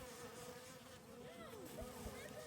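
Bees buzz steadily around a swarm trap set out for the season, a continuous insect drone with wavering pitch that stays close and fairly quiet, a few louder passes near the end and no talking.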